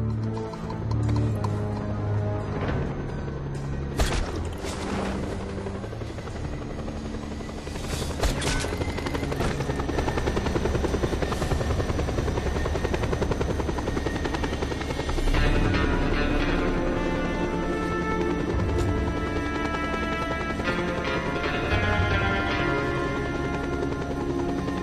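A helicopter in the Just Cause 2 video game flies with a loud, steady rotor thump and engine drone throughout, joined by clattering in-game effects and occasional sharp bursts.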